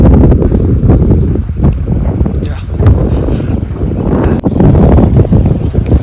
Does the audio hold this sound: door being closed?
no